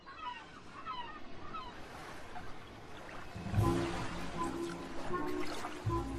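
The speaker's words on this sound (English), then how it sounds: "As waves hit the western edge, they surge over the sandbanks" Ocean waves rush and surge over sandbanks in a broad wash of surf that swells louder halfway through, with faint birdlike chirps early on.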